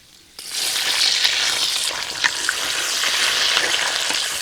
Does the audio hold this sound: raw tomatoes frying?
yes